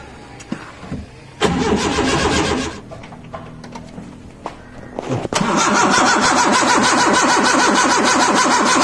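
A modified Maruti Gypsy is cold started: a few faint clicks, then a loud starter crank that cuts out, a second attempt, and finally the engine catches and settles into a loud, steady, close idle.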